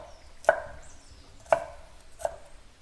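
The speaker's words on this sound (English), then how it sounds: "The cabbages needs to be finely julienne." A knife slices red cabbage into fine julienne on a cutting board, giving three separate crisp chops at uneven intervals in a quiet kitchen.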